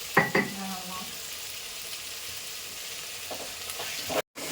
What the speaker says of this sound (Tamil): தக்காளி பழத்தை போட்டு கொஞ்சம் உப்பு போட்டுக்கலாம்.